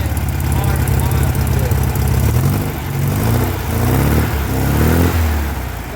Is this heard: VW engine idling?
yes